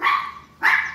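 A dog barks twice, loud and close, two sharp separate barks with a short pause between them.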